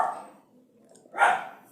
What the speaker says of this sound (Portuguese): É sempre que eu não vou gravar que esse cachorro late.